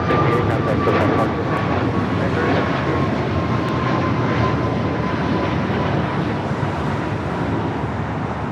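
A Boeing 777-200ER jet airliner takes off at LAX, bound for Dallas-Fort Worth, giving a steady, broad engine roar that holds constant and loud throughout, with a faint whine running beneath it.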